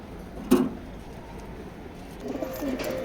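Male racing pigeon cooing in a loft, one short throaty coo up close, then a softer second coo after a pause, over quiet background hiss.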